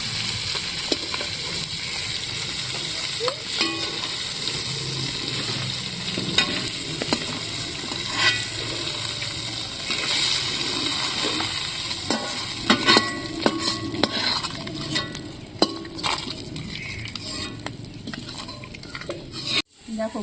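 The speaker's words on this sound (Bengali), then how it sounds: "মাছ ভাজা" Home-pond fish fry in hot oil in a pan, giving a continuous loud sizzle broken by scraping stirs and occasional metallic clinks of a spatula against the pan.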